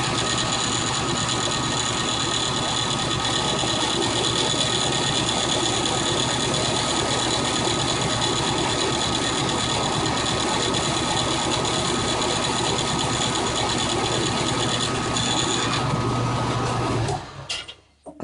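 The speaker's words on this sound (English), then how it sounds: "that's a carbide drill bit because we're drilling into hardened steel here" A carbide drill bit grinds continuously into hardened steel, drilling a detent hole with a steady high whine and buzzing rattle, running loud for a long stretch before cutting off.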